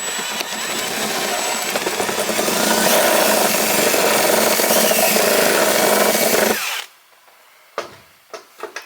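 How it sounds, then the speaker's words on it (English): A power drill whirs loudly and continuously for about seven seconds, strained as it bores a big hole during repairs on a Geo Pro 19FBS camper, then cuts out, followed by a few short clunks and taps. "drilling a big hole."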